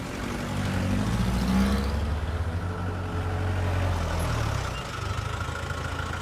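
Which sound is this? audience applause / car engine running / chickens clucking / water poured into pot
car engine running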